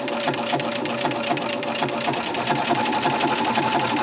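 A sewing machine stitches slowly along a marked line on a Halloween quilt block, giving a steady, close mechanical whir with rapid needle ticks that runs continuously without pause.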